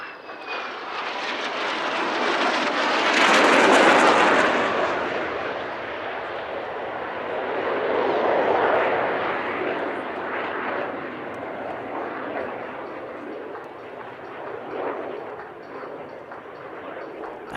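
Swiss Air Force Patrouille Suisse F-5 fighter jets roar past at a Cosford airshow, a loud broad jet rumble swelling to a peak early on, easing, then surging again in a second pass as the noise lingers.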